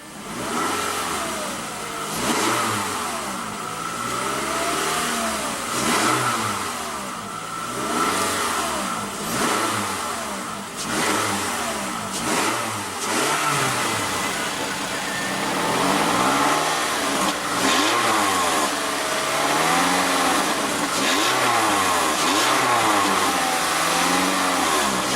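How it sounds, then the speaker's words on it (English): A 2014 Toyota RAV4's 2.5-litre four-cylinder engine revs repeatedly, rising and falling in several throaty surges over a steady idle, close and fairly loud. "let's go ahead and hear how that Camry engine sounds"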